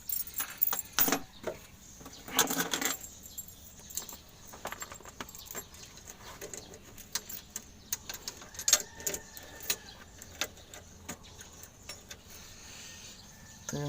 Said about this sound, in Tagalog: Ito yung susi niya.